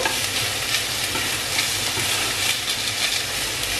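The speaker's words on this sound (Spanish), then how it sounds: "vamos a estar revolviendo constantemente para que el jamón no se queme en el fondo" Diced ham frying in butter and stirred constantly in a pan for a fettuccine Alfredo sauce makes a dense, even sizzle close by, steady and without pauses.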